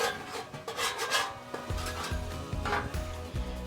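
A metal scraper dragged across a Blackstone griddle during a deep clean, giving short rasping strokes that turn into a quick run of repeated scrapes partway through, close and fairly quiet.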